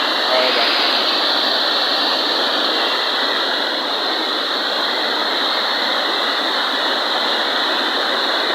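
Loud, steady rushing of heavy water, a continuous broadband roar with no breaks, close to a river in flood during the Konkan monsoon, near a dam.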